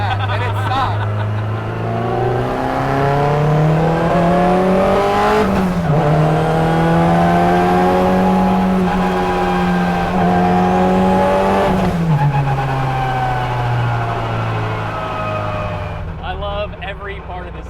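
A high-power front-wheel-drive Honda Integra pulls hard on a highway, its engine droning loud and steady as it climbs through the revs, with a brief dip at each gear change. Voices talk over the engine.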